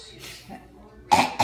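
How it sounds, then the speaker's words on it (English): Two sharp, close coughs near the end, following a few seconds of quiet breathing. "this hurts to cough"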